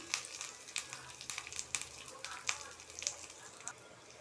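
Onion and curry leaves hit hot oil after popping mustard seeds in a tempering for a Tamil banana stem and lentil dish, crackling and sizzling close up with irregular sharp pops over a steady faint hiss.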